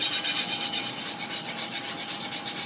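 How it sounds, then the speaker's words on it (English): Whole nutmeg is grated by hand for lasagne, a close, steady rhythmic rasping of quick back-and-forth strokes with no talk. "When you're cooking with nutmeg, please use whole nutmeg and just grate it yourself."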